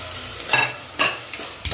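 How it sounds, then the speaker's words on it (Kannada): Masala for Kolhapuri chicken gravy fries in a pan, a soft steady sizzle broken by a few distinct scraping stirs of a spoon, close and without talk. "ಹಸಿ ವಾಸನೆ ಎಲ್ಲ ಹೋಗ್ತಾ ಇದೆ ನೋಡಿ, ಚೆನ್ನಾಗಿ ಫ್ರೈ ಮಾಡ್ತಾ ಇದ್ದೀನಿ."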